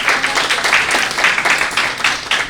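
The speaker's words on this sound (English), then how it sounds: "Please give him a round of applause." A lecture audience gives a warm round of applause for a speaker in a university talk series, a loud continuous patter of many hands swelling and easing in waves.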